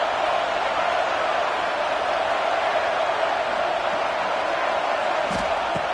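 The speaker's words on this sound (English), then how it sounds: "This crowd unhinged, trying to make sure the Gators don't back down on third down." A football stadium crowd roars continuously and loudly during a third-down play in a Florida Gators game, a dense wall of cheering noise with no breaks.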